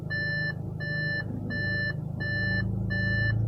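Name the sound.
Audi car shifted into reverse, reversing beeps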